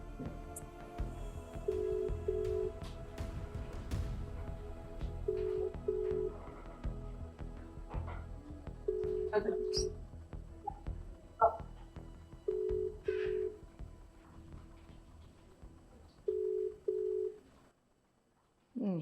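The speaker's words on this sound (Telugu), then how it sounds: "ఇది రింగ్ అవుతుంది, చూద్దాం." A WhatsApp call ringing out on a phone, the repeated ringback tone sounding in about five evenly spaced bursts with pauses between them, faint talk and handling noise in the background.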